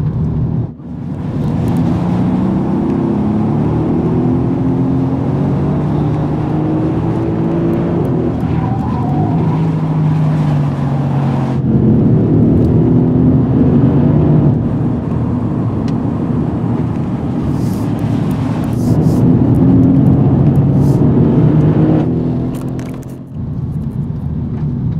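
A 2017 Mercedes-AMG C 63 AMG drives hard on the Ascari circuit in Ronda, Spain, its engine roaring loud and close, rising and falling through gear changes with rumbling revs and brief tyre noise, no voices.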